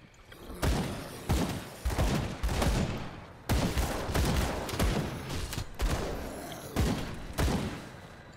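Repeated gunshots from the action RPG Grim Dawn, a series of sharp loud blasts in irregular bursts with thuds between them, over steady game background noise.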